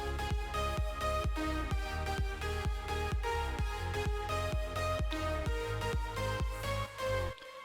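A punchy kick drum thumps in a steady four-on-the-floor pulse beneath sustained synth chords and bright lead lines, loud and full in an electronic dance track, ending abruptly with a brief tail.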